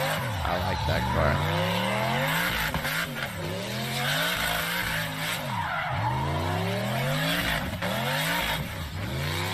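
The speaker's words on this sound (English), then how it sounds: "Damn, that's a long burnout." A car holds a long, continuous tire burnout at a car event, its exhaust exiting from the side; squealing tires and a sustained, rising and falling engine roar run loud throughout with no pauses.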